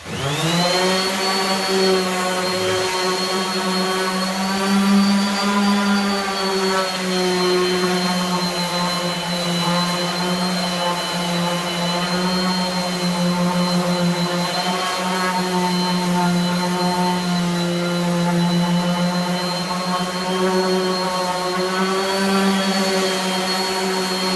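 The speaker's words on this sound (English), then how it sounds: "I'm using a Craftsman 5-inch orbital sander. It's been a good sander." A Craftsman 5-inch orbital sander runs steadily on knotty wood, a loud continuous motor whine with strong tonal harmonics holding for the whole stretch, with no talking.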